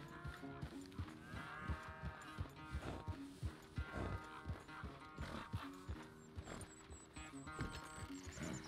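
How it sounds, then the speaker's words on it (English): A horse in the Red Dead Redemption 2 video game snorts and whinnies with hoof clops and shuffling, fairly close and intermittent, under soft ambient game sound. "Where's that big mean horse?"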